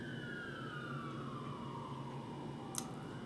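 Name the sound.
police car sirens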